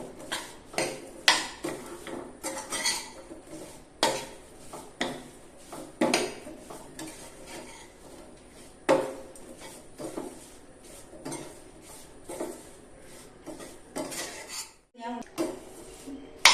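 Salted mango pieces go into a pan of Kerala mango pickle and get stirred, with repeated clinks and scrapes of a utensil against the pan and scattered rattles running throughout at a close, moderate level, no talk over them.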